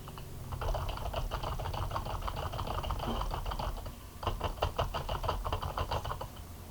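Rapid keystrokes clatter on a computer keyboard in bursts, pausing briefly midway before resuming. The typing is close and clear in a quiet room.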